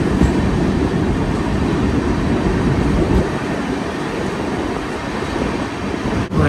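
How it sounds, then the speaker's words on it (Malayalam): The Mangala Lakshadweep Express rolls slowly downhill through forest, a loud, steady rumble of wheels and carriages with faint rhythmic clatter, easing slightly partway through and continuing without voices. "ട്രെയിൻ പയ്യാണ് പോകുന്നത് കണ്ടോ."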